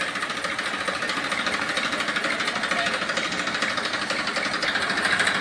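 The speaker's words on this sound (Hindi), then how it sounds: "मॉडिफाई कराया इन्होंने ट्रैक्टर, क्या शानदार आवाज़ है भाइयों।" A modified Massey Ferguson 1035 tractor engine runs steadily up close, a loud, continuous rough diesel clatter with rapid even knocking pulses and no talk over it.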